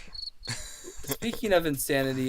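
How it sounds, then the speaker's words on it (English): Crickets chirp steadily in the background, a thin high trill that continues beneath a person talking. "Just the crickets slowly turning me insane."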